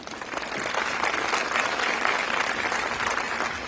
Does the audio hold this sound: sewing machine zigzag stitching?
no